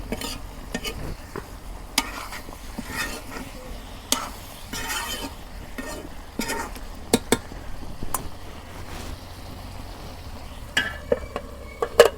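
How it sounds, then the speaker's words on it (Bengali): Beef fries in oil in a pan, a soft steady sizzle broken by sharp scrapes and clinks as a utensil stirs it at irregular intervals, close up with no talking. "ভালো করে আমি কষান করে নিব তেলের পানি দিয়ে, একদম ভাজা ভাজা করে নিয়ে"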